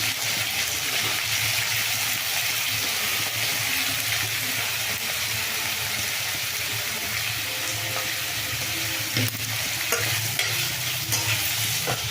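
Chopped eggplant fries with onions in a hot pan, a loud continuous sizzle with occasional stirring scrapes and clicks, close up and without speech.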